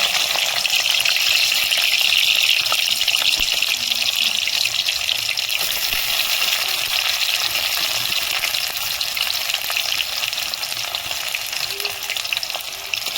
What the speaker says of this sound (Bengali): আমার তেলটা হিট হয়ে গেছে, আমি এখন পেঁয়াজ কুচিটা দেবো।